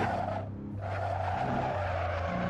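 A Porsche 911 Turbo S in the Assetto Corsa racing game skids under hard braking, its tires squealing loudly and continuously over steady engine drone.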